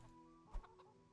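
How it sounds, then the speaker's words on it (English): A chicken in the medieval video game Kingdom Come: Deliverance clucks faintly, with a few short, soft clucks under steady low background game ambience. "Pick up the chicken."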